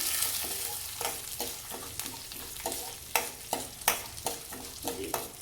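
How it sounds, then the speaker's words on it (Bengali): Mung dal dry-frying in a pan while being stirred, a soft continuous sizzle broken by repeated scraping strokes of a spatula at an irregular rhythm, close and fairly quiet, with no talking. "মুগ ডালটা একটুখানি ভালো করে ভাজা করতে হবে, ভাজা ভাজা করে নিয়ে"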